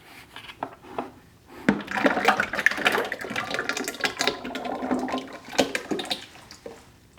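Liquid clay slip pours from a gravity-fed spigot into a bucket, a steady splashing, gurgling flow that swells after a short pause and then continues with small surges.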